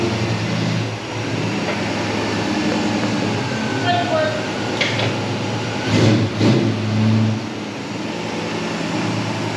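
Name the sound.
1967 Ford Mustang V8 with FiTech EFI driving for first time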